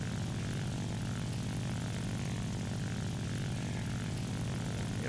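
Steady, loud drone of a propeller plane engine in the War Thunder video game, an early German research-rank aircraft, a continuous throbbing hum that fills the clip without speech.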